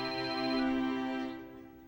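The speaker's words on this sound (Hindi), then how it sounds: "पहले फोन तो उठाओ।" A telephone rings with a steady, tonal ringtone, loud and close, holding for about a second before fading away, with no talking over it.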